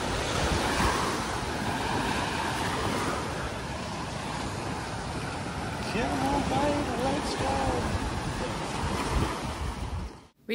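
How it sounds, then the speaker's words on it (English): Ocean waves roll steadily onto Senggigi Beach on Lombok, a continuous loud wash of surf with gusty wind buffeting the microphone throughout. "So we are on Singigi Beach"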